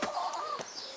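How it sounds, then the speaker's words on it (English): Backyard garden-farm chickens cluck softly in a brief burst of short, close calls over steady outdoor background noise. "This is the chickens."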